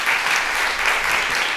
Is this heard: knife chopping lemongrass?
no